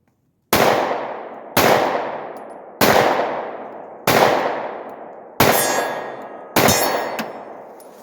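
Six loud, sharp pistol shots from a Glock 22 in .40 caliber, fired one-handed with an optic mounted, spaced about a second apart, each with a short ringing decay and no talking.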